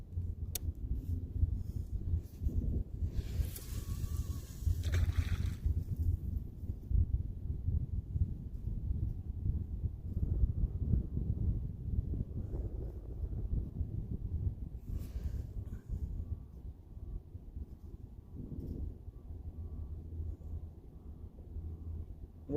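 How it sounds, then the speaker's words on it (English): Wind blowing over the microphone while kayaking on an Indiana lake, a steady low rumbling buffet with occasional faint clicks, no voices. "We're going to let that wind push us."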